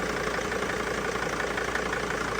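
A 2006 Dodge Sprinter N1V diesel idles steadily up close, a loud, even rumble with a fine repetitive clatter and no other sounds over it.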